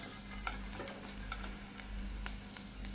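Fried prawns stirred into a black-pepper spice masala in a pan, with repeated scraping stir strokes and a low, steady sizzle, close up and without talk.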